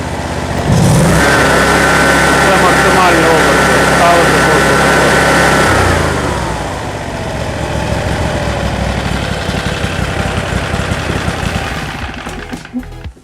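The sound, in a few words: two-cylinder petrol engine idling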